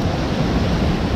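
Steady, dense rush of water from a small waterfall inside an underground brook culvert, a constant loud roar with no breaks.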